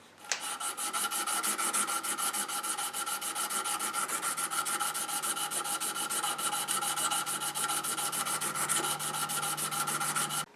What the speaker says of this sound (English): So I'm going to do some hand sanding